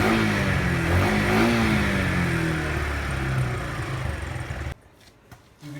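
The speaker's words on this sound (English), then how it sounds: "Idle it outside for a few minutes and get it nice and warm." A 2005 Kawasaki Eliminator 125 motorcycle engine runs steadily at idle outdoors, a loud continuous low rumble with a slight waver, cutting off abruptly near the end.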